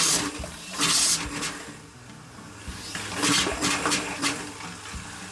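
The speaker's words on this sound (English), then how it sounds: "Do you have to like flush the toilet or anything like that?" An RV toilet flushes with a rushing swirl of water, followed by the tank refilling, heard up close in a small room.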